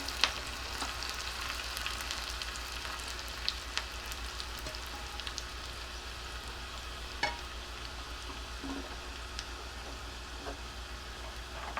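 A tempering of crushed garlic and dried red chillies sizzles quietly in oil for a spinach dish, with a faint, steady crackle and a few soft ticks, and no talking.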